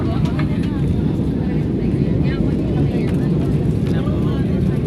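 Steady, loud broadband rumble of an airplane just after landing on a trip to Boracay, a continuous low roar filling the whole stretch with no breaks.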